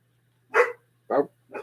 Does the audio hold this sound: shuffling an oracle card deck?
no